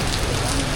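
Steady rain beats hard on a surface outdoors in Cambodia, a dense, even hiss with no pause across the short stretch.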